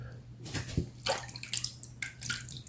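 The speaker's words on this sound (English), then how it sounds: "Final rinse." Water splashes and runs during a rinse after a shave, close and irregular, with bursts of splashing over a low steady hum.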